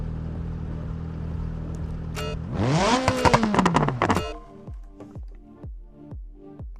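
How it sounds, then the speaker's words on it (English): A video game car engine, in BeamNG on an Italian hill-climb, rises sharply in a loud rev with clattering, then settles into a series of rhythmic deceleration pops, with a steady idle hum before. "That's the sound of our car."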